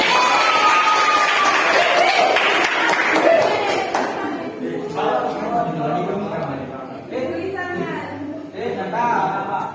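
Children in an Arabic-language lesson classroom clap and cheer loudly for a student group, with a dense crowd roar in the first few seconds that fades into mixed chatter and scattered shouting.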